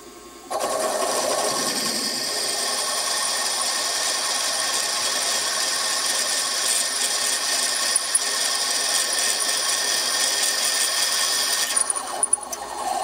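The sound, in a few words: drilling a 7.6mm pilot hole for the reamer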